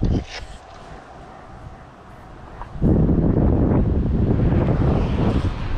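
Strong gusts batter the microphone at a roadside swamp, a low roar that swells sharply halfway through and stays loud and close, with no talk over it.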